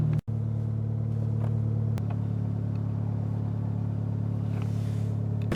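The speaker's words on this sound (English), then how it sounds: "didn't expect that type of exhaust sound, all that good stuff for this car" Steady idle of a 2015 Fiat 500 Abarth engine and exhaust, a deep continuous rumble heard up close with a single sharp knock near the start and no talking.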